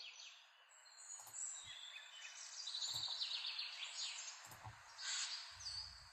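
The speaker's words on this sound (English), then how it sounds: "Should be able to hear some birds singing in a minute." Birds call and chirp in a forest, with several short tweets and whistles scattered over a soft, steady background; a few low thumps in between, moderately faint.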